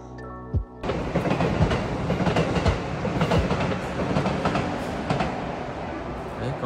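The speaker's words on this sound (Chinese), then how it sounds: "南山小火车" A scenic sightseeing train rolls past near Arashiyama in Kyoto, a sudden start into a steady rumbling clatter of wheels on rails that holds loud and close, with faint voices in the background.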